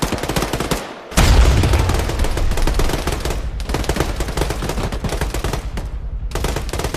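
Sustained automatic gunfire crackles loudly and densely during military squad training, in long rapid bursts broken by a few brief pauses.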